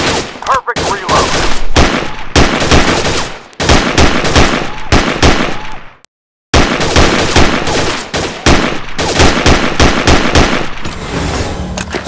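Sustained bursts of STG44 assault rifle fire in the VR shooter Gun Club VR, loud and dense, with rapid automatic volleys broken only by a brief silent gap.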